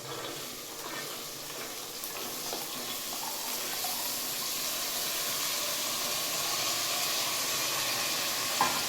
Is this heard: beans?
yes